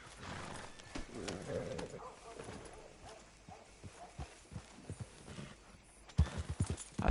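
Horse hooves clopping in the Red Dead Redemption 2 video game, a horse coming through a gate, with irregular thuds of moderate loudness and a sharper burst of hoof steps near the end amid game ambience.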